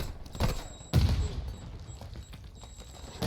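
Shooting in Call of Duty DMZ: two sharp gunshot bursts, the second louder, followed by scattered fainter reports and low background rumble, with some voice activity in the mix.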